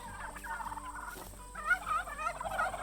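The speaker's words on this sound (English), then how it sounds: "The old turkeys" Turkeys gobble in a warbling, bubbling chorus of several birds on a farm, steady and moderately close with no talking.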